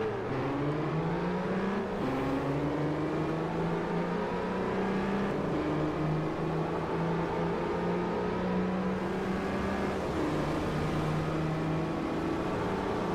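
Audi Q7 engine in Forza Motorsport 4 at Hockenheimring: a steady, loud engine drone that climbs in pitch through the gears and drops at each shift, with repeated rises and falls and no talk over it.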